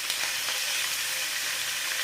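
Chicken pieces fry in a pan with browned onions for yakhni pulao, giving a steady, close, even sizzle that holds without pause and has no voices over it.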